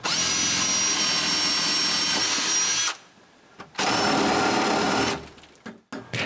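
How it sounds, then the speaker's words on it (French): A power drill bores small bolt holes into wood for new cabin shutters, whining loudly at steady speed in two long bursts separated by a short pause, with a brief final spurt. "je fais des petits trous dans le bois où il va y avoir des boulons"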